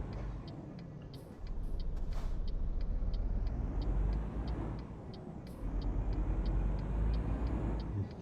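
A car pulls away with a steady engine hum that swells twice as it drives off, accompanied by a regular high ticking, close and moderately loud with no talking.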